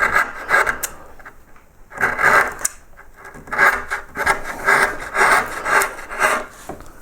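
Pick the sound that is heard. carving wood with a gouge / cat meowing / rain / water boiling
carving wood with a gouge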